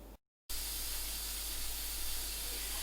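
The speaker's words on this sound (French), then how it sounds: "les glands qu'on va pouvoir consommer frais avec des légumes, on verra tout à l'heure, sont en train de cuire dans la cocotte minute" Acorns cooking in a pressure cooker, which gives off a steady, loud, close hiss of escaping steam after a brief silence at the start.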